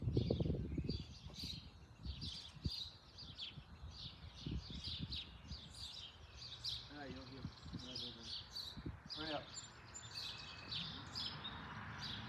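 Starlings call again and again in a busy chorus of chirps, whistles and tweets, fairly distant and steady throughout, with leaves rustling and low handling noise near the start.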